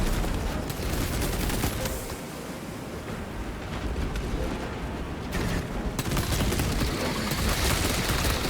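Sustained gunfire in the Space Marine II video game, a dense continuous barrage of shots with a roaring, broadband wash that dips briefly mid-clip before resuming, loud and unbroken with no talk.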